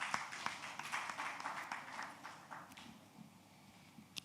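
Audience applause at a corporate summit awards event, welcoming Chief Dr. Umaru Kwairanga of Nigerian Exchange Group; a faint, dense patter of clapping that gradually thins and fades over a few seconds.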